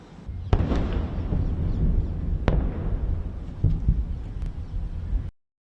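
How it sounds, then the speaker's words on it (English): Air defense interceptions explode over Tel Aviv during an Iranian airstrike, with several sharp, loud booms and cracks standing out against a constant rumbling roar before the sound cuts off abruptly. "loud explosions of interceptions by the air defense systems"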